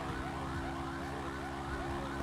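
Police car siren in the GTA video game, a continuous wailing tone sweeping up and down and masking the game's steady background hum, with no voices.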